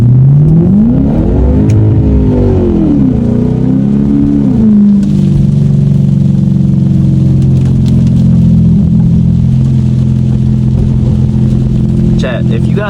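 A Lexus car engine revs on a rainy road, rising and falling in loud swells for the first few seconds, then settling into a sustained high drone, with a voice talking over it.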